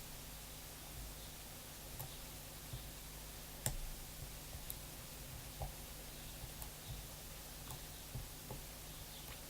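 Faint, sparse pin clicks from a Mul-T-Lock MT5+ rim cylinder being picked, scattered irregularly over a steady noisy hiss, with one slightly sharper click standing out partway through.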